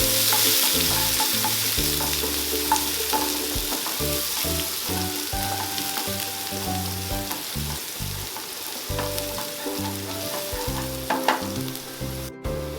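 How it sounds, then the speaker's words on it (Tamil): Onions and garlic sizzle steadily in a hot pan for bitter gourd poriyal, with a spatula repeatedly scraping and stirring, close and continuous. "இது எல்லாத்தையும் ஃபர்ஸ்ட் நல்லா வதக்கிக்கோங்க."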